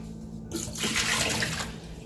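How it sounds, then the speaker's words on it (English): Water pouring from a refrigerator's built-in ice and water dispenser, starting abruptly after a short quiet moment and running as a steady splashing stream close by. "Here is the ice and water dispenser."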